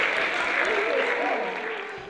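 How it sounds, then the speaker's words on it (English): An audience at a biology education program claps in a steady, full round of applause that gradually fades toward the end, with some voices audible underneath. "you really deserve a round of applause."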